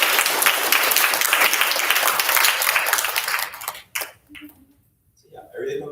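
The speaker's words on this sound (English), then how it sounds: "So, just another round of applause for Thay's speech." Applause from a youth leadership camp audience after a speech, dense clapping filling the room for about four seconds before thinning out, with voices speaking as it fades.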